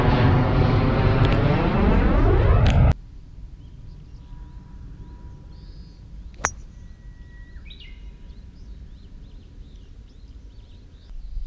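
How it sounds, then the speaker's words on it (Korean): A jet airplane roars loudly overhead near Narita airport, beside a golf course, its pitch sliding downward as it passes, then cuts to quiet outdoor ambience with faint birds. "비행기가 많이 뜹니다."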